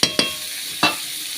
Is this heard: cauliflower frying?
yes